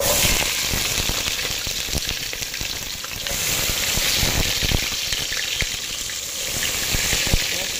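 Tempering for chicken biryani sizzles and crackles steadily in a pan, a loud, continuous frying hiss with scattered pops and occasional stirring, close by and without a break.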